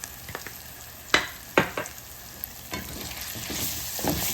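Jackfruit and bacon filling is mixed in a pan with a spoon, giving a few sharp scrapes and clacks early on that are followed by a steady, soft sizzle. There is no talking.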